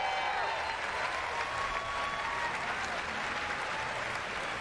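Crowd applause at the Bethesda E3 2019 conference fills the whole stretch as a dense, steady clapping roar with faint cheering.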